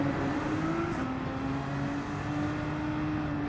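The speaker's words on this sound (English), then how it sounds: "Definitely hear that turbo." A Group 3 race car in Gran Turismo 7 drones steadily with a high engine tone and faint turbo whine, holding an even, continuous pitch close by throughout, with no talk.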